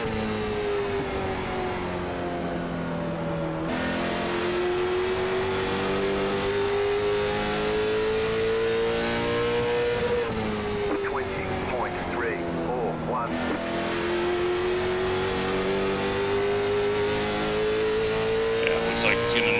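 Race car engines from the CARS Tour fixed setup at Stafford oval in iRacing drone loudly, pitch rising and falling as the car accelerates and lifts through corners, a steady near engine tone with louder bursts.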